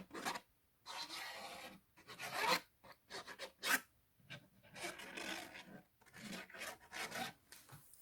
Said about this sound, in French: elle est rainurée la feuille, c'est pour ça que ça fait du bruit